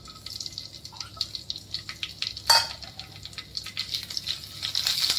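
Green chilies and asafoetida frying in a pan while being mixed, a light sizzle with clinks of a utensil against the pan and one louder scrape midway, close and fairly quiet, no voices.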